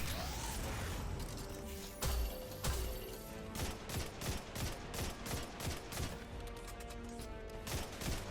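Rapid bursts of gunfire and explosive blasts from a grenade launcher in the video game Destiny 2, firing in dense repeated volleys against a constant backdrop of battle noise.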